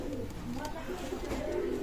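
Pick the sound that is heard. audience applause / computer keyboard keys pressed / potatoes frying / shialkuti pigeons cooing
shialkuti pigeons cooing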